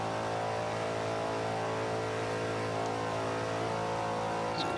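Ford Mustang Shelby GT500 accelerating in the Forza 5 racing game, a steady, loud engine drone that climbs gradually in pitch and holds at high revs.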